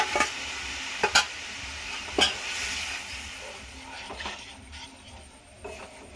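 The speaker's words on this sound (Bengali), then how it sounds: "আগে থেকে সিদ্ধ করে রাখা মুসুরির ডালটা দিয়ে দিলাম।" Boiled masoor dal being stirred into a hot pan for a sour mango dal, with a soft background sizzle and a few sharp clinks of a spoon against the pan, no talking.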